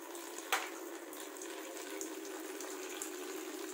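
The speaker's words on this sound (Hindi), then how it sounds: "नीचे मैंने पानी के लिए बाल्टी लगाई हुई है और ये पानी इसके अंदर जा रहा है" Water pours into a bucket set underneath, making a faint, continuous trickling splash with a small knock near the start.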